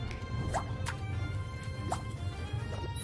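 Water drips in the cooking game Battle Chef Brigade, several bright plinks falling at irregular intervals over a steady low background hum.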